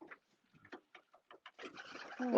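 Racing pigeons coo softly in short, scattered bursts at a young bird race check-in, with louder rustling and handling noise building near the end.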